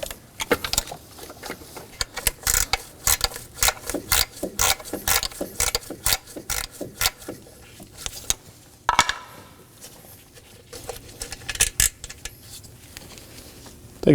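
A ratchet works the bolts loose on the high pressure fuel pump of a 2014-2020 Acura MDX 3.5L V6, making rapid clicking bursts with metallic taps and pauses, close up and without talk.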